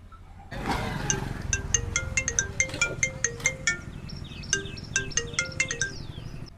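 A mobile phone plays a chirpy melodic ringtone in a Gujarati diamond-business workplace, a bright repeating pattern of quick tonal notes with a steady rhythm that fills the moment without any voices.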